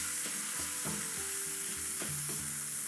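Fresh chorizo frying with smoked paprika and garlic in a pan, loud steady sizzle with a few stirring scrapes, no talking.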